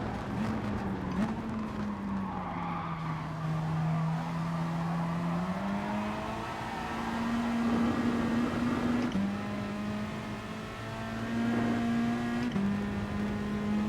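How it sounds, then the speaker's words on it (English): Race car in the GT Sport video game, a continuous engine drone that rises and falls with gear changes and slowing into corners, plus tyre squeal, steady and prominent with no talking. "We have to brake really early here just because of our tyres."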